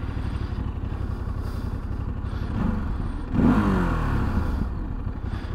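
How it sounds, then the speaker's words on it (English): Ducati DesertX motorcycle fitted with a Termignoni exhaust, idling and blipping in a parking lot, a steady throbbing engine rumble with a brief louder rev near the middle, close to the microphone. "this is the exhaust note that we're working with the Desert X"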